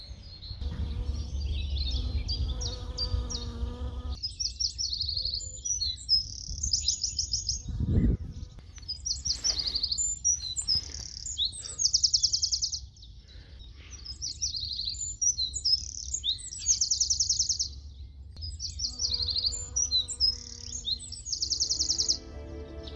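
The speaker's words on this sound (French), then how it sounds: "On entend plein d'oiseaux." Many birds sing and chirp in the Brière marsh, a migratory stopover, with repeated bright trills and calls near and far, a low rumble underneath and a brief thump midway.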